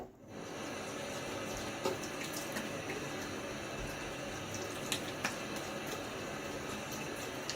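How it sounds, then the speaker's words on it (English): A razor is rinsed under a running tap. The water pours steadily and fairly loudly from start to finish, with a few faint clinks and taps as the razor moves in the stream. "All right, a little rinse."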